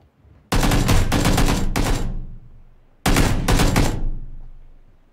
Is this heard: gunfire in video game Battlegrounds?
yes